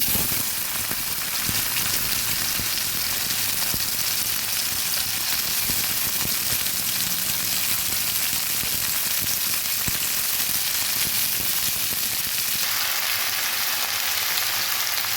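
Steamed baby bananas hit hot oil left from frying potatoes, setting off a loud, dense, continuous sizzle that crackles steadily and then eases to a softer hiss near the end, with no talking.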